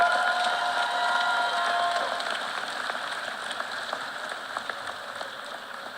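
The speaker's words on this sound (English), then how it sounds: "how about a round of applause for them?" Graduation audience at a law school ceremony applauds, a dense, steady wash of many hands clapping that gradually thins and softens over several seconds, with no talking on top.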